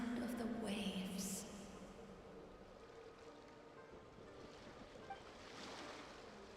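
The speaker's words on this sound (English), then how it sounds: "Go to where you can hear the sound of the waves." Ocean waves from a video game wash steadily as a broad, moderately quiet surf texture, a little louder at the start, with a brief tonal game sound early on.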